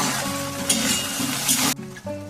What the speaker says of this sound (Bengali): সব কিছুকে ভালো করে নাড়াচাড়া করে রান্না করে নেব।